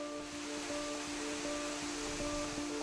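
The Canyon waterfall pours into the reservoir at Mar de Minas, giving a steady broadband rushing roar that sounds continuous and even, with a faint tonal hum under it and no speech.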